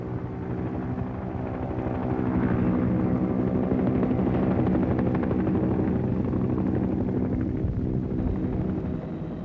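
Loud, continuous rotor thrum of Japan Ground Self-Defense Force helicopters flying close by during a 1971 air-mobility exercise in Hokkaido, a dense steady roar that swells slightly in the middle and holds throughout.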